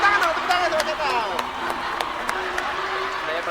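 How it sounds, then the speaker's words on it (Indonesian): A studio audience on an Indonesian TV comedy show claps in quick, sharp bursts. The clapping sits under a loud speaking voice that carries on through the sound. "Tepuk tangan dong, tepuk tangan sama setan."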